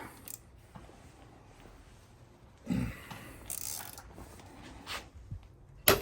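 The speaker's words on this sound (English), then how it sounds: "We'll break them loose, I guess, with the regular ratchet." A ratchet wrench works on the motor mount bolts of a 2012 Ford Focus, giving faint intermittent clicking with a few louder mechanical bursts against a quiet background.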